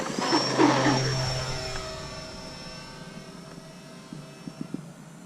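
An E-flite EC-1500 radio-controlled model airplane flies by, its high electric motor whine loud at first and then fading steadily into the distance, with a few faint knocks near the end.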